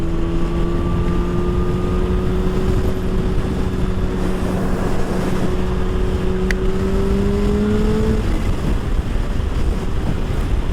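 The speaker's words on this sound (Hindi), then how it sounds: "हाँ, इसका सुपर चार्जर यार अलग ही साउंड करता है।" Supercharged Kawasaki H2 motorcycle accelerating on a road in the USA, a steady rising engine whine droning over heavy wind rush for several seconds before fading, with no talking.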